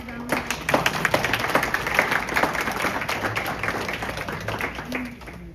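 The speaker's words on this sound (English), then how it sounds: "Can we give Savannah a round of applause?" Applause for a student who has just recited the Pledge of Allegiance at a board of education meeting, a room of hands clapping steadily for several seconds at moderate loudness before tapering off.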